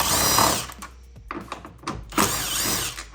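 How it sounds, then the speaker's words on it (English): A power drill removing 10mm bolts on a Hyundai Elantra N whirs in several short bursts with brief pauses between, close and fairly loud, with some mechanical clatter. "I have a drill because I'm a cheater"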